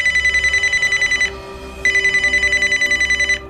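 A mobile phone rings loudly and close in two bursts of rapid electronic trilling, separated by a short gap.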